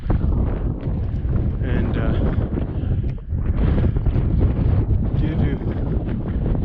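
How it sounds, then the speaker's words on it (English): Strong wind roars steadily across the microphone during a blizzard with blowing snow on Mount Allan in March, a loud continuous buffeting rush with a brief dip midway, and a voice speaking faintly beneath it. "that blowing wind and blowing snow"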